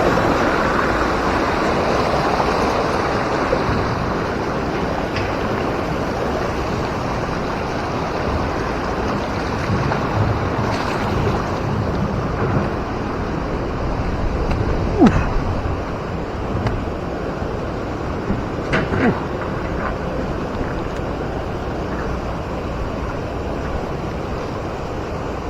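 Steady, dense rush of the Lembah Anai waterfall in West Sumatra fills the scene, a constant broadband roar with faint gusts of wind against the microphone and no voices.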